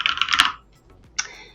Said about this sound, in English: all you have to do is literally just start typing